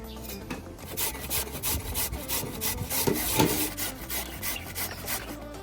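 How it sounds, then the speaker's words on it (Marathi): Peeled potatoes, five kilos of them, being grated by hand, a steady series of close, rough rasping strokes with no voices over them. "पाच किलो बटाटे साल काढून घेतलेले आहेत आता ते खिसून घ्यायचे"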